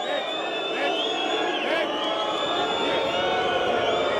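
An unhappy partisan crowd at a freestyle wrestling match fills an arena with a steady roar of voices, whistles and shouts, loud and sustained throughout.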